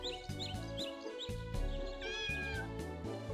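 Repeated cat meows from the video game King Exit, several short mewing calls in a row over a steady melodic game soundtrack.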